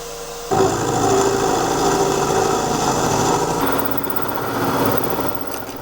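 A milling machine takes a heavy cut in a steel faceplate, a loud steady mechanical whine and grinding that starts abruptly and continues with a slight shift in tone partway through.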